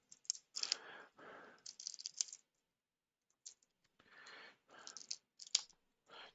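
Packaging of a Magic the Gathering Mardu Surge precon deck being opened on a desktop, close crinkly rustles, clicks and rattling in short bursts separated by a silent pause.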